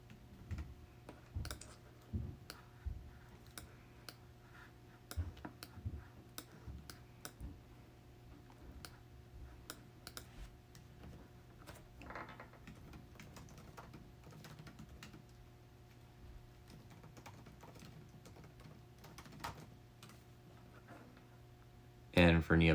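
A note is typed on a computer keyboard in quick, irregular bursts of close clicking keystrokes with short pauses, then a brief louder clatter at the very end.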